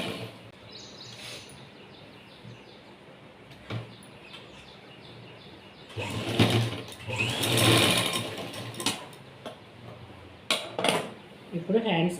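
A sewing machine stitches a folded blouse shoulder seam in short, uneven runs, with clinks and handling clatter. Quiet background sounds come first, and the louder stitching bursts come in the second half.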